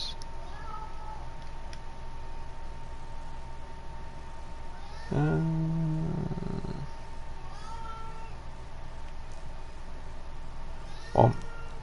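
A house cat meows twice close by, a short wavering call midway and a brief sharp one near the end, over a steady low background hum and no talking.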